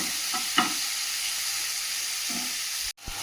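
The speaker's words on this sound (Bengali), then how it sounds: "মশলার সঙ্গে বরবটিটা ভেজে নিচ্ছি ভালো করে" Yardlong beans frying with tomato, garlic, ginger, onion and spices in a pan, a constant soft sizzle with a couple of brief stirring scrapes and a short clunk near the end.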